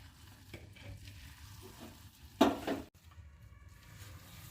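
Daliya pulao being stirred with ghee in a pan, a low scraping and soft sizzle with one louder scrape burst midway, no voices.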